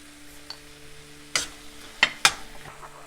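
A spoon stirs a shakshuka mixture of spices, coriander, cumin and salt in a pan, with a few distinct scraping strokes and clinks over a soft background hum.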